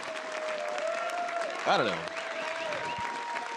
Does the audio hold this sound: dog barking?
no